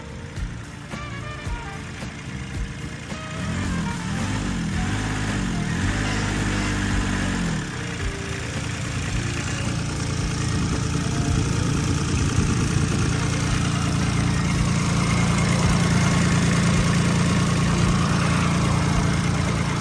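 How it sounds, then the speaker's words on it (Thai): A Kubota D1105 three-cylinder diesel on a Tadano AC-121-2 bucket truck runs steadily close by, a constant mid-pitched idle with a brief wavering rise in revs early on, no talking over it. "เป็นเครื่องยนต์3สูบแบบนี้นะครับเจ้าตัวนี้เนี่ยจะใช้เป็นเครื่องยนต์คูบต้านะครับดี 1105นะครับ"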